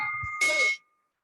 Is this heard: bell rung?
yes